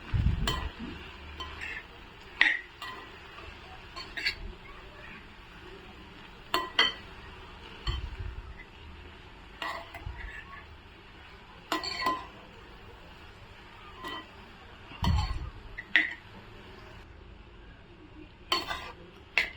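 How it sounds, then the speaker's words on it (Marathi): A spoon repeatedly stirs a spring onion greens stir-fry in a pan, with intermittent scraping and clinking strikes against the metal every second or two, fairly quiet with a soft background hiss. "मिक्स करून घेऊया कांद्याची पात"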